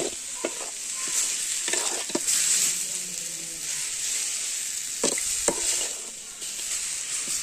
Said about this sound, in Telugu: మిరప్పొడి వేసుకున్న తర్వాత బాగా కలుపుకోవాలి.